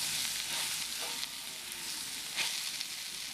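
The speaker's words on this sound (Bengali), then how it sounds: "এবার সবজিগুলিকে ভালো করে কষিয়ে ভেজে নেব।" Vegetables for an elephant-foot-yam, stalk and prawn curry frying in a pan with turmeric and red chilli powder, a steady close crackling sizzle with faint stirring scrapes throughout.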